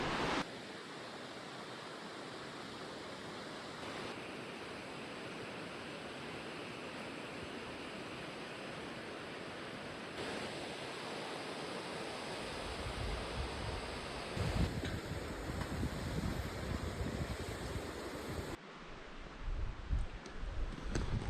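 A deep river in Tararua Forest Park rushes far below a high swing bridge, a constant broad roar of flowing water with wind gusting across it and no voices.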